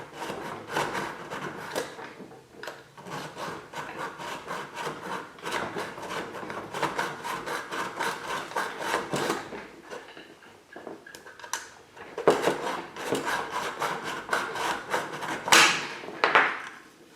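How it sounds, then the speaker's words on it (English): Hand file rasping along the edge of a CETME C rifle magazine, short back-and-forth strokes in a quick steady rhythm, close and fairly quiet, pausing briefly before resuming. "file a little off the edge in there, like that"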